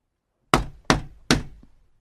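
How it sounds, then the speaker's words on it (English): Three firm knocks on a shop door, evenly spaced about half a second apart, close and loud with short decays, then silence. "Finally, he knocked on the shop door."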